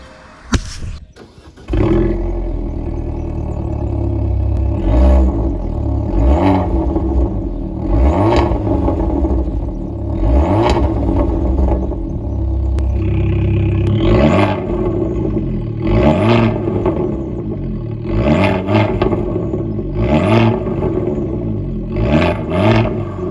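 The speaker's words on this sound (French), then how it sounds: "On va démarrer la bête. T'entends tout de suite le son du turbo." A Fiat 595 Competizione with an Akrapovic exhaust cranks and catches, then revs repeatedly in loud, rising bursts with a turbo whoosh, close and continuous.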